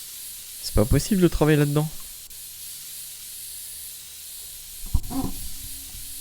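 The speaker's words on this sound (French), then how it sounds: "Nettoyez votre ordinateur avec une bombe de spray." A can of compressed air sprays to blow dust out of a computer, giving a faint, steady hiss that runs for several seconds after someone speaks in French and continues beneath his voice.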